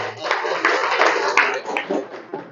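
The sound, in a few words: audience clapping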